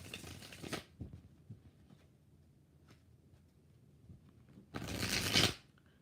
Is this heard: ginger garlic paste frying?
no